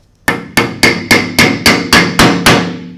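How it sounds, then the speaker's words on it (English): A bolt extractor hammered into a drilled-out broken bolt: nine loud, evenly spaced metallic hammer strikes, close up, each ringing briefly before the next blow. "Now we're going to pound our extractor in."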